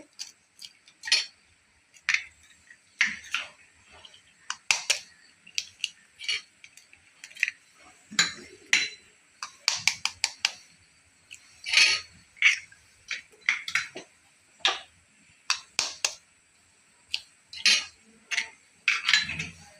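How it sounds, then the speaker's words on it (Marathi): Four eggs being cracked for an egg paratha filling, a string of sharp, close taps and clinks of shell against a bowl, with light utensil clatter between them in a quiet kitchen. "त्यासाठी मी हे 4 अंडे फोडून घेतेय"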